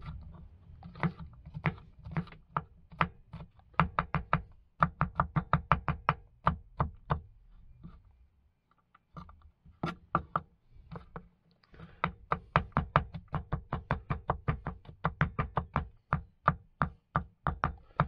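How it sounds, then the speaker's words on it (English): A knife chopping vegetables on a cutting board for beef stew, with rapid rhythmic knocks in quick runs broken by short pauses, close and crisp, with no talking. "let's chop these all up nicely"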